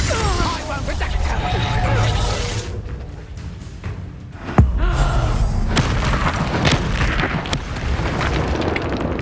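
An explosive Confringo spell goes off during a Harry Potter video game battle, bringing a loud boom and crash amid dense, continuous game sound, with one sharp burst standing out midway.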